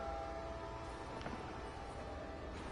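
A train in a video game cutscene rumbles as a steady, dense mechanical drone throughout, with a faint horn-like tone sitting above the continuous noise and no speech.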